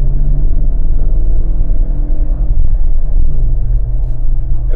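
A 1991 Ford Scorpio 2.0 Ghia with very low mileage accelerates in second gear around 3000 rpm. A loud, steady, low engine drone fills the cabin throughout with no talking.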